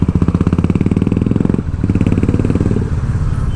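A Royal Enfield Classic 350 BS6 motorcycle thumps along through Chennai city traffic, its single-cylinder engine pulsing in a steady, loud, close beat that dips briefly and then picks back up.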